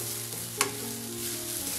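Grated coconut fries with mustard seeds in a pan, a continuous, even sizzle with one brief scraping stir partway through and a faint tonal hum beneath.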